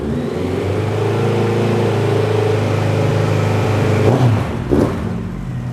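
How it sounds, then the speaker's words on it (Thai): A 2017 Honda CB1100RS motorcycle with its stock exhaust idles with a deep, steady exhaust rumble, then gives a couple of quick revs near the end, loud and close. "อันนี้เป็นท่อเดิมผ่านนะฮะเสียงดุดันนะ"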